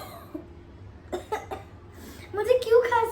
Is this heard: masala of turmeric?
no